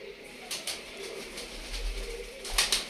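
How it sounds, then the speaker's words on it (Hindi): Pigeons coo softly nearby in Lahore while wings flap in several quick bursts as they take off, the flutters louder toward the end. "कबूतर उड़ रहे हैं"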